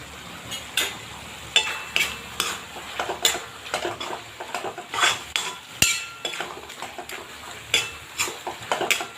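A spoon scrapes and stirs amaranth leaves with spices in a metal pot, giving rhythmic clinks and scrapes about twice a second over a soft sizzle. There is no talking.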